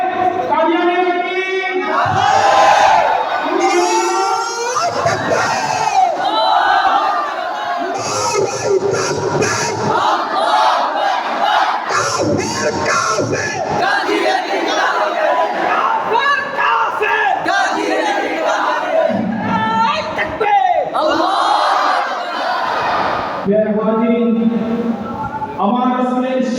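A large crowd at a religious gathering shouts slogans in loud unison, answering a lead voice on a sound system in repeated call-and-response bursts that continue throughout.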